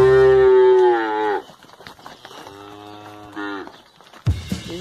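Farm cattle moo in two long, deep, drawn-out calls close by, and a third call starts at the end. Faint background noise fills the gaps.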